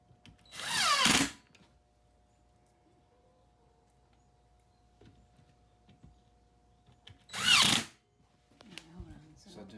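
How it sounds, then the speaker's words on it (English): A small power grinder whines in two short bursts, nipping sharp tips off a piece of work, with quiet pauses and light handling sounds between the loud cuts. "So I'm gonna take a little grinder and just nip the tips off there."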